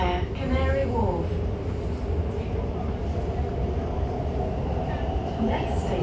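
Elizabeth line train running underground on the first Crossrail journey from Paddington toward Abbey Wood via Canary Wharf, a steady loud rumble with rattling carriage noise throughout, a voice announcement heard over it near the start.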